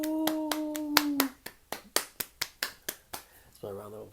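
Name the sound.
hand clapping round of applause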